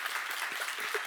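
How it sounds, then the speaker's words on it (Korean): A church audience bursts into applause at a seminar, a dense, steady clapping that fills the short moment at close range with no pause. "믿는 사람 한번 박수세요"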